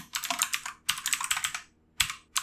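Code being typed on a computer keyboard, three quick bursts of crisp clicking keystrokes separated by short pauses, close and fairly quiet, with no speech.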